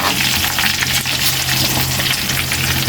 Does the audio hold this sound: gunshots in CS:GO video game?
no